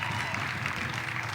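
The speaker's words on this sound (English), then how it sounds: "Matthew Mateus is going to get a huge round of applause here" A crowd at a Little League baseball regional game between North Carolina and South Carolina gives pitcher Matthew Mateus a steady burst of applause, a dense wash of clapping heard at some distance.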